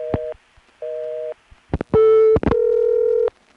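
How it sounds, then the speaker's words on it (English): A telephone ringback on a 1A ESS Centrex line from the 1980s, heard through the handset as two short ring bursts, then clicks and a longer, louder steady tone, close and clear with no talking. "Oh, good, you're listening to your own ring."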